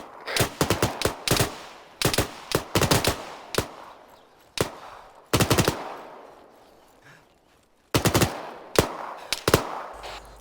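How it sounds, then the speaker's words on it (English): Machine-gun fire in Arma 3 during a recon training exercise, loud bursts of rapid shots in several clusters with short pauses and fading echoes between them, no talk. "Come on, keep up the fire. Suppress the enemy."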